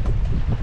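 Strong wind buffets the microphone while fishing on rough water, a loud continuous rumbling roar with no other sounds.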